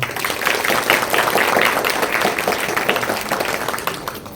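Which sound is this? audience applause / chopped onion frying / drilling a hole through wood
audience applause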